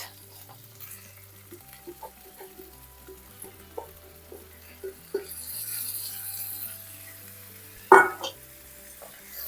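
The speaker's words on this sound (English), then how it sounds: "once this fries a little bit, we'll add in our rice." Food frying in a pan before rice goes in, a quiet crackling sizzle with scattered small pops and light stirring clicks over a low hum, ending in a sharper clatter near the end.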